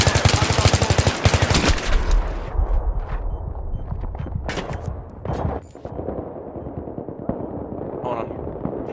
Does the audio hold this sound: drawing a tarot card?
no